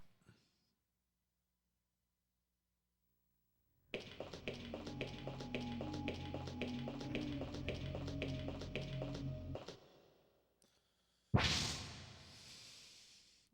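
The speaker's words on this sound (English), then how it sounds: "What a good door noise." A door opens in the OverBlood video game with a steady, rhythmic mechanical clatter and a sustained tonal hum for about six seconds. After a short silence comes a loud whooshing burst that fades away.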